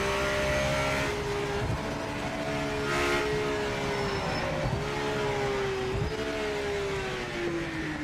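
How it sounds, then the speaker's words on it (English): A race car engine in a racing video game, with the driver downshifting on a straight, holds a steady, droning high engine note that dips and shifts in pitch a few times, with no talking. "Watch when I downshift in a straight line."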